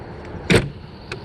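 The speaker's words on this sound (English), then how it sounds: "you have a power step that's controlled by your screen door" The electric power entry step of a 2017 Jayco Melbourne 24M motorhome, triggered by the screen door, gives a short mechanical clunk and whir near the door, followed by a faint, brief click.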